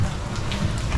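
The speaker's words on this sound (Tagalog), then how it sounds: "Umuulan dito sa Victoria ngayon" Steady rain falls at an open-air public market in Victoria, Philippines, a constant hiss of drops pattering on surfaces close by, with no talk.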